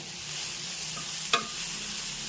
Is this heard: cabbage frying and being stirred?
yes